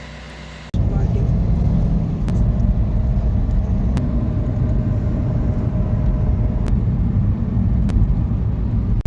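A car starts moving and then drives along, its interior filled with a loud, steady low engine and road rumble, broken by occasional sharp clicks and knocks.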